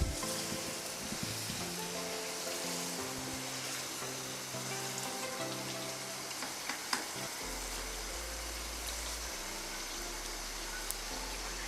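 Chicken korma pieces sizzle steadily in a hot pan while being gently stirred, a continuous soft frying hiss with occasional faint scrapes and no talking.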